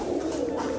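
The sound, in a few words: pigeons cooing, released from loft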